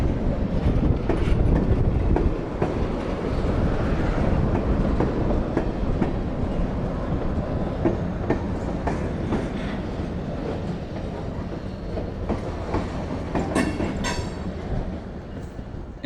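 Trim sets of railroad cars roll through a hump classification yard beside engine shops, a steady rumble of wheels with clickety-clack over rail joints and occasional faint squeals, heard from a distance and gradually easing.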